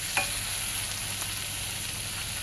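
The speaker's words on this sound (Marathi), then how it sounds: "छान एकजीव होईपर्यंत आपण परतून घेऊया" Onion and tomato sautéing together in a pan for a dried Bombay duck chutney, an even, steady hiss of sizzling with one brief clink near the start.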